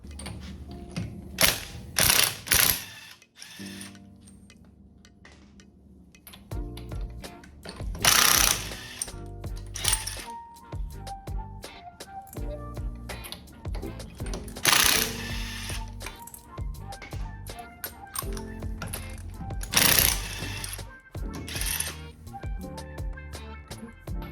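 Ratchet tightening lug nuts while new wheels are mounted on a Miata, rapid clicking bursts repeated with metallic clanks and pauses between, close and loud.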